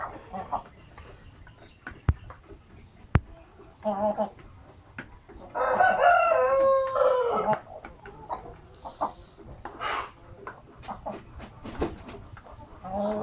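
Native chickens cluck in short, scattered bursts on a farm, with a rooster's crow rising loudly around the middle; faint background voices and farmyard noise sit underneath.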